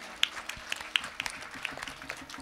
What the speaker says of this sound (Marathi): सर्व आयोजक, नियोजक, संयोजक या सर्वांकरता एकदा जोरदार टाळ्या वाजवा